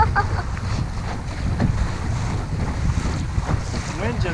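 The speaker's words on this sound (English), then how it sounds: "Wind just picked up all of a sudden." Strong gusty wind roars across the microphone aboard a small sailboat, with rumbling buffeting and water sloshing beneath throughout, and faint voices now and then.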